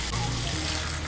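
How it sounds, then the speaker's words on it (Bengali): Water poured into a pan of potato and pointed gourd curry, a soft, steady splash and trickle close by for about a second, with no talking. "এর মধ্যে দিয়ে দেব সামান্য একটু জল"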